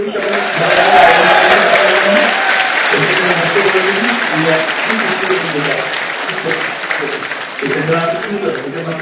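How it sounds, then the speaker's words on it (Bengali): An audience claps together in a sustained, loud burst of applause that runs the whole stretch, with voices mixed in underneath. "সেই জন্য সবাই মিলে করে একটা হাত তালি"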